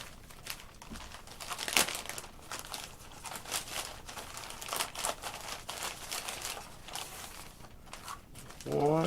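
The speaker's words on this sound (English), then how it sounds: "I'm gonna try to cut them out of the bag." Plastic bag holding RC airplane elevators being cut open, irregular crinkling and tearing rustles with sharp snips, close and fairly quiet, with some soft handling noise.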